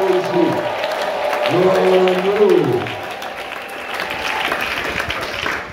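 A church congregation at a Bible seminar applauds and cheers in a steady, full wash of clapping and crowd noise, with a raised voice or singing carrying over it through much of the clip.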